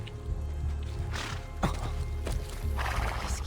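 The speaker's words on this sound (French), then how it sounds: "Il est là, mon cheval." Horse in the video game Assassin's Creed II, a neigh and hoof clops over a steady game ambience, with a couple of brief louder bursts.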